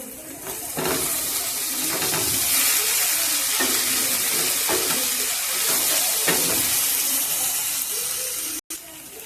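Sesame and poppy seed paste with slit green chillies frying in a pan gives a continuous loud sizzle and hiss, with occasional scraping stirs breaking through the steady crackle.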